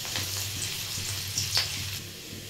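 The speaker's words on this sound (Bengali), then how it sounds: "এর মধ্যে আমি কিছু পরিমাণে কোচানো রসুন দিয়ে দিচ্ছি।" Chopped garlic hits hot mustard oil in a pan and sizzles loudly and steadily up close, with small crackles and spatters popping through the frying noise.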